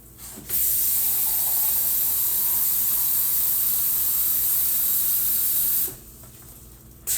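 Water pours into a container to make a pickling brine for bread-and-butter style pickled vegetables, a loud steady splashing hiss lasting about five seconds before cutting off.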